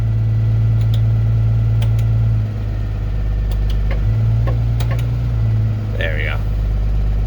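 School bus engine running at high idle, a steady low rumble that dips and rises as the idle changes, with someone speaking briefly over it.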